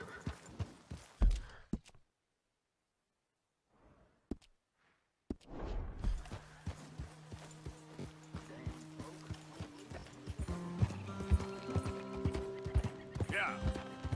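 After a short silent gap, a horse in Red Dead Redemption 2 clip-clops at a steady trot with a whinny. Sustained musical tones rise underneath, and a voice speaks in the mix.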